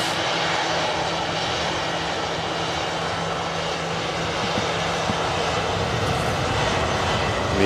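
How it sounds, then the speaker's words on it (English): An EasyJet jet airliner departing for Malaga roars steadily and loudly throughout, a continuous broadband engine rush with no talk over it. "EasyJet in front of us is on its way out to Malaga"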